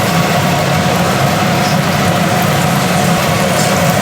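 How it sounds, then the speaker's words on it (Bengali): Chhanar jilipi, cottage-cheese jalebi, frying in hot oil gives off a dense, continuous sizzle that stays loud and even throughout, with no voices. "এবার আমরা তেলে একে একে এই ছানার জিলিপিগুলো ছেড়ে দেবো"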